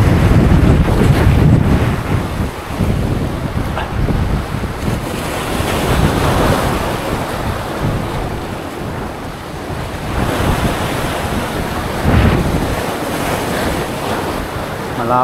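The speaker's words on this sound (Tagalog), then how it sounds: "Lakas ng hangin." Strong wind and waves on a slippery rocky shore while fishing during the northeast monsoon, loud continuous wind buffeting the microphone over a rushing surf that swells and ebbs, with no talking.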